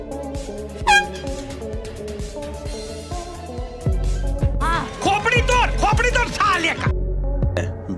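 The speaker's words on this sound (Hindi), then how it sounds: "उनके पीछे जाकर जोर से हॉर्न बजा लेते हैं" A loud vehicle horn blasts close by as a prank, its strong sweeping tones rising over an ongoing din of voices and background noise for several seconds.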